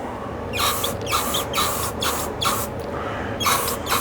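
Spray paint hisses onto a garden sculpture in a series of short, evenly spaced bursts, close by and fairly loud, with no voices.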